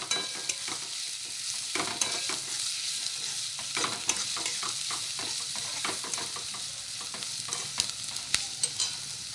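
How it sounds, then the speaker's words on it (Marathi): Chopped onion frying in a pan while being stirred: a steady, close sizzle with repeated scraping and stirring strokes throughout, and no talking. "आणि कांद्याला जरा थोडासा आपण फ्राय करायचा, थोडा जास्त नाही, थोडा फ्राय करायचा।"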